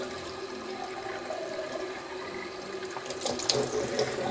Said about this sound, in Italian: andiamo a riempire il contenitore d'acqua